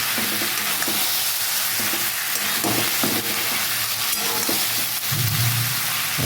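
Fish head and spinach fry on low heat in a loud, constant sizzle close by, with repeated rhythmic stirring scrapes and spatula knocks throughout.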